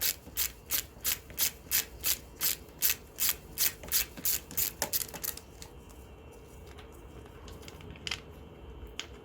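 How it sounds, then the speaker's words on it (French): A ratcheting tool clicks in a steady rapid rhythm while backing screws out of a Suzuki Bandit engine cover, close and crisp, then stops and leaves faint handling rustles and small taps. "on attaque la dépose des 4 vis ici."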